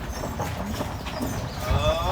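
Horses' hooves clip-clop steadily as a team pulls a covered wagon on a tour in Wellsboro, Pennsylvania, the beat moderately close and running under outdoor chatter and wind.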